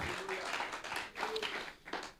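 Church congregation at an annual retreat service clapping together, a soft, somewhat distant patter of many hands in uneven bursts, with a voice faintly sounding beneath the applause.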